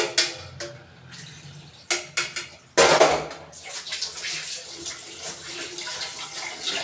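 Dishes being washed under a running kitchen tap, with water splashing and gushing in bursts punctuated by clinks of utensils, close and moderately loud, with no talking.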